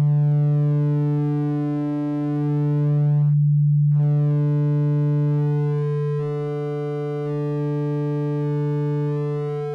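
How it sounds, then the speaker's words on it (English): A sine wave runs through a wavefolder built in Reaktor 6, a sustained buzzy synth tone rich in stacked harmonics that cuts out briefly near the middle, then returns with a brighter, shifting upper timbre. "As I bring down that maximum, we can see how that waveform gets folded over, and we can hear those new harmonics coming in."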